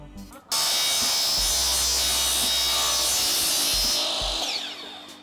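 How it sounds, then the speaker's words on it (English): A miter saw fitted with a non-ferrous metal blade cuts through aluminum for an aquarium stand, giving a loud, sustained high whine and rasp for about four seconds before the blade winds down. "This is a non-ferrous metal blade, and it's actually made for cutting soft metals like aluminum"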